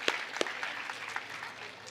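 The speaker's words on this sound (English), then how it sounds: "Please give them a big round of applause." Applause from the audience at a national science camp's valedictory and prize distribution ceremony, heard as a steady, moderately faint wash of clapping with a few sharper claps early on.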